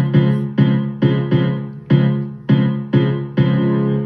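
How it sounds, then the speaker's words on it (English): A piano riff plays alone as the opening of a produced song, with evenly spaced struck chords repeating about every half second, each decaying before the next, loud and close. "So I started the song with this piano riff."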